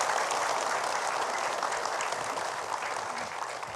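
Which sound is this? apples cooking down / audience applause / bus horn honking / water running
audience applause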